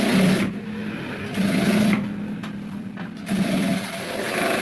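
A sewing machine stitches a belt onto a pair of pants in three short bursts of steady humming whir, separated by quieter pauses.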